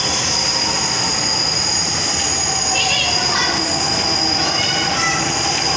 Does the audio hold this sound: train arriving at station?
yes